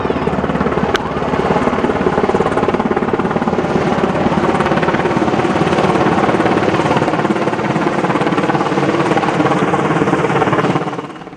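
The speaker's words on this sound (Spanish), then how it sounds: "cuando vieron que se acercaba el helicóptero, se llegaron hasta el helipuerto mientras el helicóptero llegaba" A Black Hawk helicopter's rotor chops steadily and loudly nearby as it arrives at a military helipad, a continuous thudding roar that holds for several seconds before easing off at the end.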